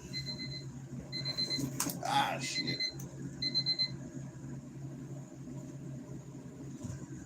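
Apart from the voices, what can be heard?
alarm clocks ringing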